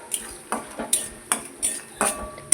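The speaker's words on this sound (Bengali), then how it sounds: "তারপরে ভালো করে নেড়ে চেড়ে নিলাম" A metal spoon scrapes and knocks against a pan while onion paste and bay leaf are stirred in hot oil, giving sharp, regular strokes roughly every half second, close and clear without speech.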